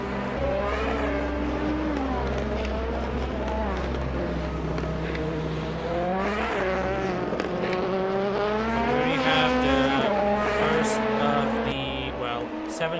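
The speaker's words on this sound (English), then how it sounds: "we do have cars currently back out on track." Race cars in a Le Mans 600 sim racing game lap the track with a steady, continuous engine drone and shifting revs throughout, staying loud and constant without pause.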